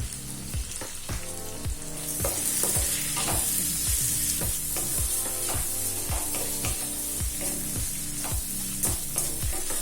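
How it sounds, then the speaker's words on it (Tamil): Tomatoes sautéing in a pan with salt and turmeric for Kerala kadala curry, a steady close sizzle broken by regular rhythmic stirring scrapes throughout, no voices. "இப்போ தக்காளி நல்லா வதங்கிடுச்சுங்க."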